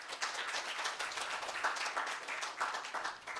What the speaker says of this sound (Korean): 한번 큰 박수 부탁드리겠습니다.